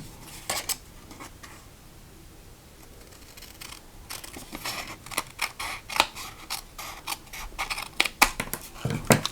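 Scissors snip through paper while a gift tote bag craft is trimmed, a run of sharp, close cuts and rustles that start sparse and grow quicker and denser toward the end, with no talking.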